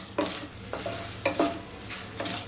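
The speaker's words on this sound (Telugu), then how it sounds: "ఆయిల్ హీట్ ఎక్కాక బిర్యానీ మసాలా వేసుకోవాలి. వీటిని కొంచెం దూరగా ఫ్రై చేసుకోవాలి." Biryani masala frying in hot oil, a close hiss and sizzle with a few distinct stirring scrapes against the pan.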